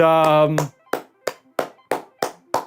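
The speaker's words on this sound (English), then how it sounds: "this is kind of a depressing clap" A short voiced tone gives way to seven slow, sparse hand claps from a lone person, evenly spaced and close, each a sharp isolated smack.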